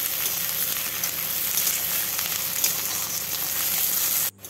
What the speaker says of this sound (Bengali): সেদ্ধ করে রাখা আলুটা দিয়েও আমি কিছুক্ষণ সময় ভেজে নেব